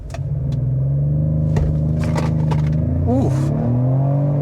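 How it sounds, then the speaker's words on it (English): A 2025 Ford Explorer ST-Line with a 300-horsepower turbo four and all-wheel drive accelerating hard from a launch, a loud steady engine drone rising with gear changes, a brief exclamation from inside the cabin. "Let's go ahead and see what we can get 0 to 60 wise."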